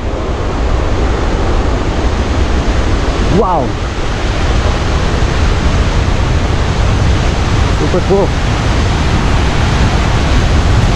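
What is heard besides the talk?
fast-flowing river water rushing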